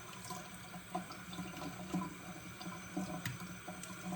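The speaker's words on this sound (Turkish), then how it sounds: "Fırının suyunu dökeyim." Water tips out of a home oven's tray, a soft trickling and splashing pour with small drips and gurgles, fairly faint and close, with no talking.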